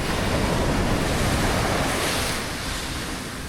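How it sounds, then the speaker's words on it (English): Large ocean waves break on a beach in Albania with a loud, continuous roar of surf. Wind buffets the microphone and the wash eases slightly toward the end. "But this is nice waves here."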